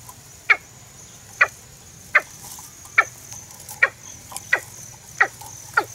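Watercock calling while caught in a trap, with eight short sharp calls evenly spaced about every 0.7 seconds, moderately close over low background noise.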